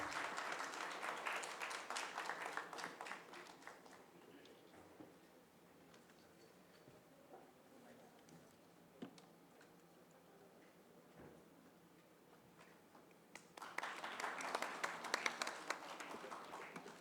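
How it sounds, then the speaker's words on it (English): An audience applauds at a physiotherapy symposium on neurosurgical conditions, a faint bed of scattered clapping that swells at the start, thins out through the middle and rises again near the end. "Please give a big round of applause for sir."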